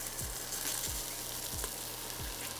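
Arborio rice goes into softened onions in an Instant Pot, giving a steady close sizzle and frying crackle broken by several soft stirring thumps at regular intervals, without talking.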